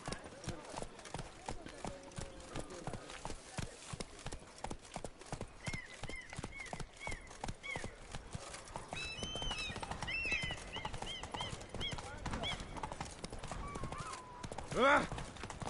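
Roach the horse galloping in The Witcher 3, a rapid rhythmic clip-clop of hooves running throughout, with a whinny-like call and game voices speaking over it near the end.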